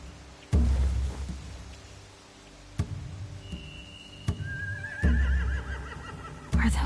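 Horses whinny in a game set in The Walking Dead: The Final Season, a raider camp with hay and torches, with a few high, wavering neighs over low thuds and ambient noise.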